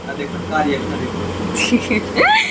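An air cooler hums steadily indoors, a low, constant whir running beneath a woman's close, lively talking.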